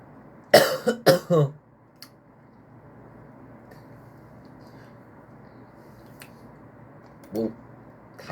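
A man coughs several times in quick succession, loud and close, then follows with a fainter throat sound and one more short cough later, set against a quiet room.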